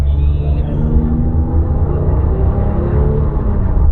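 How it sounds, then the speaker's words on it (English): A 2003 Porsche 911 GT3 (996.2) engine rumbles loudly and close by, a steady low drone with a brief dip in pitch near the start as the flywheel drops the revs, the distinctive IMS noise, no voices over it. "you've got that IMS noise. It's a very distinctive noise when the flywheel drops the revs."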